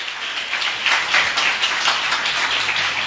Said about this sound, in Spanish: Le da un aplauso al Señor.